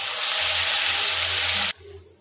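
Ground masala paste hits hot oil with curry leaves and bay leaf for an egg masala curry, a loud, close sizzling hiss that bursts up and holds for under two seconds before cutting off abruptly.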